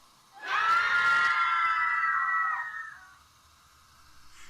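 A drawn-out, piercing scream rises suddenly, holds for about two seconds in a shrill wavering tone, then trails off into quiet, heard alone without any speech.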